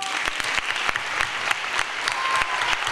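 Lively applause for a municipal rhythmic gymnastics school fills a sports gala hall, with dense continuous clapping and a few sharper individual claps standing out near and loud.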